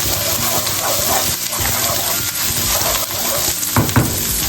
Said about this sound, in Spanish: doramos un poquito el ajo